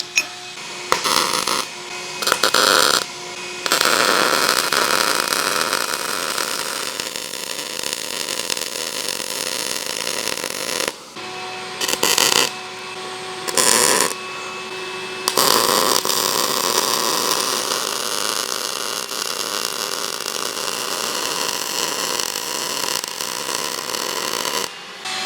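Steady crackling buzz of tack welding a bracket onto a heat exchanger fixture, coming in long sustained bursts broken by brief silent gaps, loud and close.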